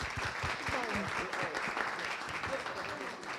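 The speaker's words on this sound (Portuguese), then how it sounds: "A gente podia fazer uma boa salva de palmas, né, porque foi bom demais, né?" Audience applause at a book fair talk on independent publishing, steady clapping from a crowd with voices mixed in, fairly even throughout.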